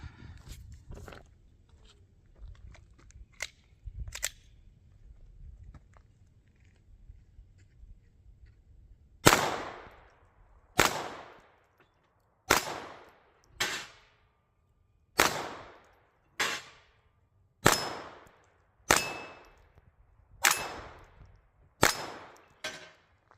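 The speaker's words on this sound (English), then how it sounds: "I'll take slow, steady single shots at this" Roughly ten sharp, loud pistol shots fired one at a time at a steady, unhurried pace from about 10 yards at a bowling pin target; before them comes a stretch of quieter handling noise.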